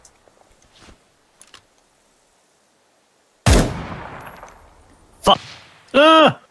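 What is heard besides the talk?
gunfire in the video game Ground Branch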